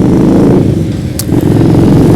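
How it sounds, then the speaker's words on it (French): A motorcycle passes by outdoors, its loud engine droning steadily as a broad, close rumble, with a brief high click partway through. "Il y a une moto qui passe."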